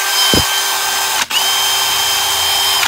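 A Milwaukee M18 2804-20 cordless drill runs close and loud with a steady high whine. It stops briefly near the middle, then spins up again and keeps running.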